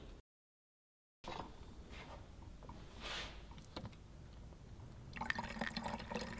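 Water siphoning out of a raised bottle through a tube, a steady soft trickling and draining flow after a brief silent gap, with faint drips and a brighter splashy burst near the end.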